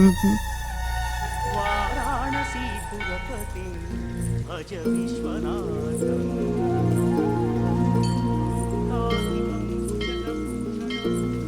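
Steady rain falls behind a dubbed Tamil police-station drama, a constant wash under loud music and voices that talk throughout.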